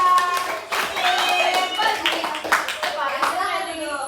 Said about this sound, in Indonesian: kita berikan tepuk tangan dulu untuk Ferry